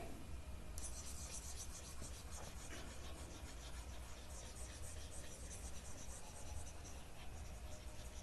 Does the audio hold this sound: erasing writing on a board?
yes